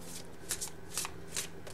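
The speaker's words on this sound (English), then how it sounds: "And I go ahead and pull your cards" Tarot oracle cards handled and pulled from a deck, with soft close riffling flicks in three or four quick bursts over a quiet room hum and no talking.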